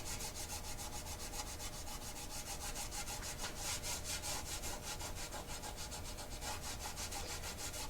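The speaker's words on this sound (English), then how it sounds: "I'm going to rub on this for a little while and see what kind of work I can do" Steady, continuous rubbing and scrubbing to strip house paint off a vintage porcelain advertising sign, a dense rasping texture with quick repeated strokes running throughout, close and fairly even in level with no talking.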